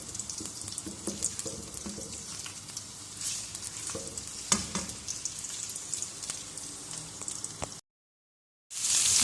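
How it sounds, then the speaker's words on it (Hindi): Ginger garlic paste frying in oil for a mutton chops masala, a continuous close sizzle with scattered crackles and pops, then a brief dead gap and a short burst of sizzling again. "इसको हमने हल्का फ्राई कर लेना है"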